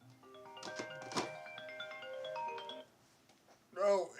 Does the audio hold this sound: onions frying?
no